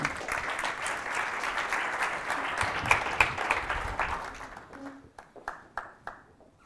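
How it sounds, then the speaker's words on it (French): A conference audience applauds a volunteer, warm steady clapping from a crowd that thins to a few scattered claps before fading out. "on peut l'applaudir quand même."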